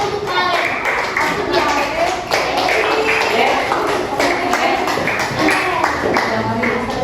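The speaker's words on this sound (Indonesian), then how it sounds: "Kasih tepuk tangan untuk si Pak." Applause from a classroom of students clapping for their teacher, a steady, dense patter of hands lasting several seconds while young voices chatter over it.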